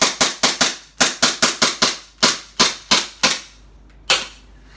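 A gas-powered airsoft Glock pistol fires a rapid series of about fourteen sharp, snappy cracks in quick bursts, loud and close, with a brief hiss of gas between the last shots and no talk.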